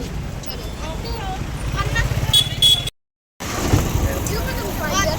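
An auto rickshaw rides through busy traffic, its engine droning steadily with occasional horn toots nearby, while people talk over the noise; the sound cuts out briefly midway.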